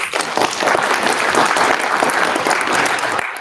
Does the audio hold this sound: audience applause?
yes